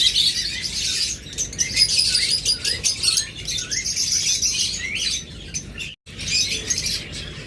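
A pair of creamino lovebirds chirps continuously in a dense, busy stream of high tweets, close and fairly loud, with one brief gap near the end.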